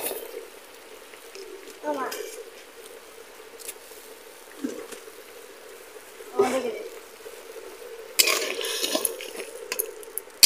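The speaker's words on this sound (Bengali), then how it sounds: "এবার আমি চিনি দিয়ে দেব, চিনি দিয়ে দিলাম।" Sugar being added to a pot of cooked tomato and mango chutney and stirred in, with a few scraping and sloshing bursts of stirring over a low, steady background hum.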